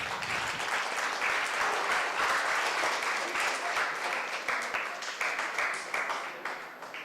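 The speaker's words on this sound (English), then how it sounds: "Guys, let's welcome them with a huge round of applause." A hackathon audience at a live event in Vizag gives a full round of applause to welcome a team, dense steady clapping that holds strong and then thins toward the end, with individual claps growing more distinct.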